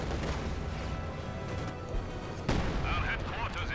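Battle gunfire in Company of Heroes 2, a World War II strategy game, with dense shots and blasts filling the background and a sharp crack partway through, mixed under game voices.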